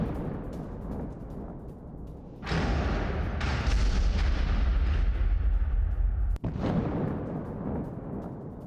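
A loud, deep blast of a tank being destroyed in a Ukrainian attack on a Russian tank erupts and rumbles on for several seconds, with a sharp crack near the end and lingering rolling noise.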